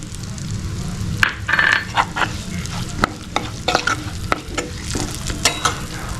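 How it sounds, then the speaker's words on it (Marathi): Dry fruit powder and raisins are stirred and sautéed in a pan for a sweet potato kheer, a soft sizzle under repeated scraping and light clinks of a spoon against the pan. "मी हे ड्रायफ्रूटची जी पावडर करून घेतलेली ती आणि बेदाणे वगैरे घेतलेले आहेत ते मी थोडंसं परतून घेते"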